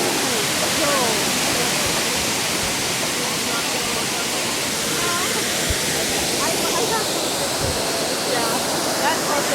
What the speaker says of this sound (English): the sound of the waterfall just kept on getting louder and louder